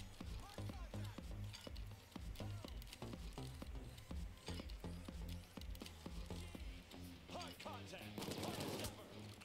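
Enemy gunfire in the video game Payday 2, with rapid bursts of shots cracking in a dense, continuous volley over a steady background of game noise.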